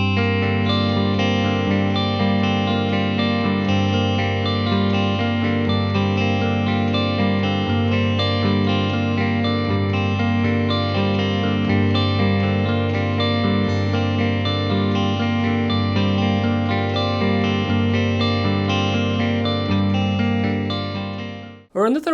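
Two electric guitar parts in FACGCE tuning layered together strum steady chords, one lower and one higher, with effects-heavy distorted tone, loud and continuous without talk.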